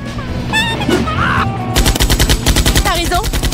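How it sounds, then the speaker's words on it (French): A cartoon explosion erupts into a fast, rattling burst of loud cracks and pops after a stretch of whistling and tonal cartoon effects, close and intense, like a rapid volley of blasts. "Waouh, ça explose si fort."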